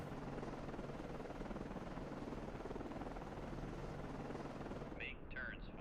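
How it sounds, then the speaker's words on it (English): Helicopter rotor noise launching from a submarine in the video game Cold Waters, a steady, dense, loud whirring drone that holds throughout, with a short synthetic electronic chirp near the end. "Let's deploy some helicopters. Aircraft ready to launch."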